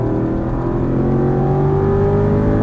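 Aston Martin V8 Vantage GT race car engine held at full throttle on a track, a loud, steady, close-up roar with a high rising whine and no pauses.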